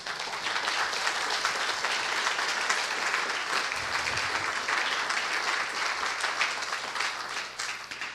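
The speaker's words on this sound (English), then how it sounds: "Would you give them a round of applause?" Audience at a workshop introduction breaks into a steady round of applause, dense clapping sustained at an even level throughout without a break.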